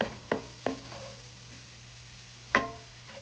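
Flour-coated vegetables stirred in a pan for a chicken pot pie, heard as a few sharp scraping knocks of a utensil against the pan, spaced apart over a quiet low hum.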